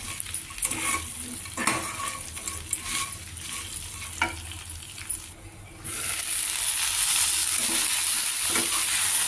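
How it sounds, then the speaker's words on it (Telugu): Okra curry simmering in a pan, stirred now and then: soft sizzle with intermittent spoon scrapes and clinks, then a louder steady hiss in the second half, no talk. "కూర మగ్గుతోంది, మధ్య మధ్యలో కలుపుకుంటూ ఉండాలి."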